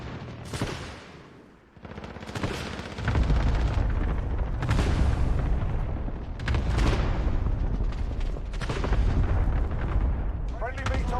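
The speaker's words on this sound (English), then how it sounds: "Allied cluster strike inbound." Cluster strike in the video game Call of Duty Modern Warfare: a run of loud, rumbling explosions and booming blasts, mixed with gunfire, with voices heard now and then.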